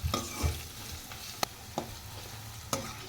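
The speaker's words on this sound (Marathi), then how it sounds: "कांदा आपल्याला छानपैकी भाजून घ्यायचा आहे." Onion stirred and fried in a pan for poha, with a soft steady sizzle broken by a few sharp spatula scrapes and knocks against the pan, close and alone without talk.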